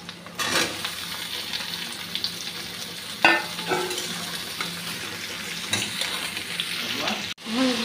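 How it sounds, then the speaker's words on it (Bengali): Onion and ridge gourd fry in a pan with a continuous sizzle, broken by occasional stirring scrapes and a few clinks of a utensil against the pan, heard close up. "পেঁয়াজের সঙ্গে ঝিঙ্গেগুলো ভেজে নিচ্ছি।"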